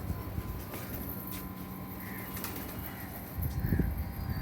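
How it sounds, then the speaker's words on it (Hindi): Pigeons coo softly amid a steady background hum, with a few faint wing flutters and a brief louder burst of low sound near the end. "ये कबूतर हैं फ्रेंड्स"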